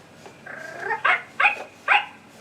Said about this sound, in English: You will know it is time to turn the page when you hear the Poky Little Puppy bark.